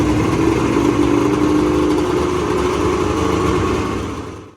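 Suzuki RGV250 sport motorcycle engine running steadily with a loud, raw buzzing drone, close and constant before fading out at the end.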